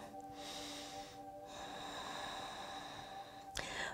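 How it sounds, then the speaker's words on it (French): During a yoga sun salutation, a long deep breath is drawn in and then slowly let out, close and soft, over faint tonal background music, ending in a brief sharp sniff. "Encore une longue respiration."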